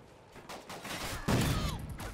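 Gunfire crackles through a gun game match in a first-person shooter, with a busy burst of overlapping shots growing louder and denser partway through amid general game noise.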